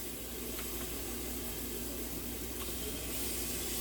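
Seasoned chicken pieces browning in hot oil in a pan give a steady, even sizzle and hiss that runs unbroken from start to finish.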